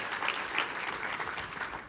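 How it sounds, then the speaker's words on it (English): Applause from a symposium audience acknowledging the Connected Health team, a short stretch of steady crowd clapping, fairly soft and distant, with individual claps faintly standing out. "I want to first ask you to acknowledge the Connected Health team with a round of applause"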